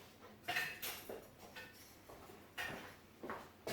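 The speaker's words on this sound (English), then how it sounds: "what I need to do now is just whisk up the egg yolks and the sugar" Egg yolks and sugar whisked in a bowl, a soft irregular run of clinking, scraping strokes close by, fairly quiet with no talking.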